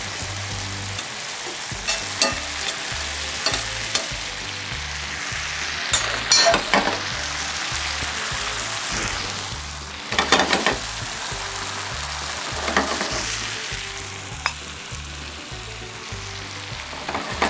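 Fish and tomatoes fry with a steady broadband sizzle in a pan, with a scraping stir from a utensil recurring every few seconds, alone and fairly close.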